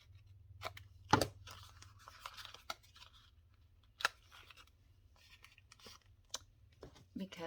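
Scissors cutting a paper tag in a quiet room, a series of sparse, sharp snips and crinkles with a low steady hum underneath.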